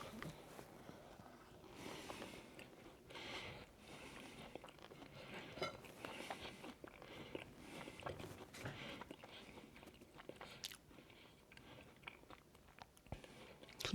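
Someone chews a supermarket mince pie with pastry and mincemeat filling, close and intimate: soft repeated bites and mastication with faint crunches, no talking.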